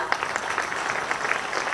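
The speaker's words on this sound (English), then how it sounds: "Please continue to clap for next 5 minutes till I call them" A school annual function audience clapping for a children's choir group, a continuous dense patter of many hands at moderate loudness with no pauses.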